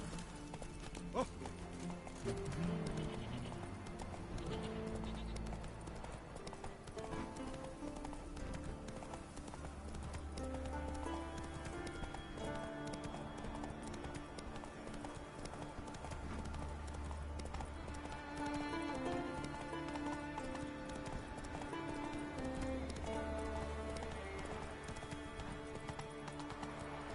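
Roach the horse gallops across a red desert in a video game, with a steady, moderately loud run of hoofbeats under music and occasional faint ambience.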